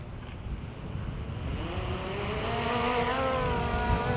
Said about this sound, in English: Got a little bit of wind blowing from this way to that way.